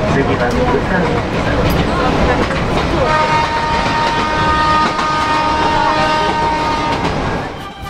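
Steady interior rumble and clatter of a renewed Izu limited express train on the rails, with a long sustained tonal whine joining midway, under voices in the background.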